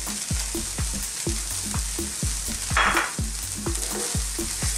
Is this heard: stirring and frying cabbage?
yes